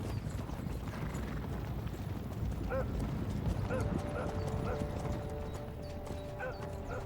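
Horse hooves clip-clop steadily in the medieval game Kingdom Come: Deliverance, a continuous clatter of several horses with a brief whinny, set against a dense background of ambient noise and a faint tonal hum.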